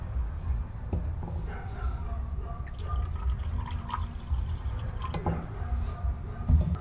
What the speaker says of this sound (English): And then some True Fuel 2-stroke oil.